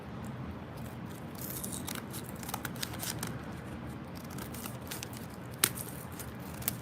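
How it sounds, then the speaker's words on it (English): Scissors snip through a Betsy Johnson paper image, a steady soft crisp cutting texture with a few sharper snaps, close and fairly quiet over faint background rustle. "this is easier to cut out than I thought"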